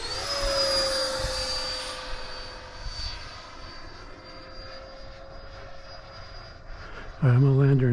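A Freewing F-4 Phantom RC jet comes in to land, its ducted-fan whine steady and droning as it passes at moderate distance, easing back toward the end before a loud close buzzy burst cuts in; a voice is heard briefly.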